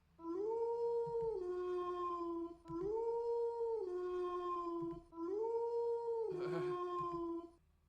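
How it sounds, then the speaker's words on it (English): Dogs howl in the Tsukihime visual novel game, three long sustained howls in a row with short gaps between them, clear and fairly close, the last one joined by a brief rougher yelp. "The howling of the dogs grows louder."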